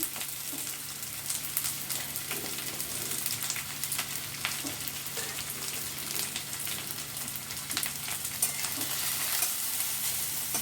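Dense crackling sizzle of chopped onions frying in hot oil, continuous and close, with faint stirring underneath and no talking.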